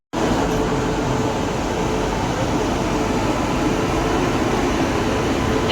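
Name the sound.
train moving past a railway platform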